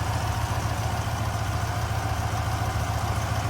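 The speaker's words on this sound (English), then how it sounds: "P5b Rover V8 here, just doing what it's supposed to do. Idling very cleanly." A 1969 Rover P5B's V8 engine idles steadily and cleanly, a close, even low rumble with a fast regular pulse and no other sounds.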